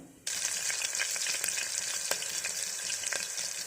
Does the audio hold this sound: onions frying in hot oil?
yes